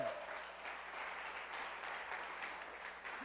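A church congregation applauds continuously, a soft, even patter of many hands with a faint low hum beneath, fairly quiet and without speech.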